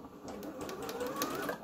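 A domestic sewing machine runs a zigzag stitch on a Christmas sack, giving a continuous close-up whirring with a fast ticking pulse and no voices over it.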